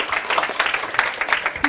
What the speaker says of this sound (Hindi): चलो जोरदार तालियां मोहम्मद के लिए